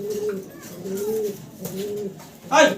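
Black Pomeranian pouter pigeons, a large breed with long leg feathers, coo in soft repeated rolling calls close by, ending in a brief louder flutter-like burst.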